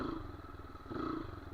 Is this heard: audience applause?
no